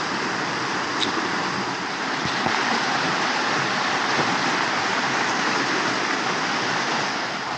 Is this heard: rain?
yes